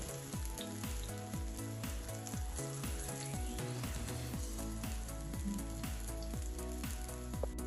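Sweetcorn cutlets fry over low heat in a little oil in a pan, giving a continuous soft sizzle beneath louder, rhythmic background music, with no talking.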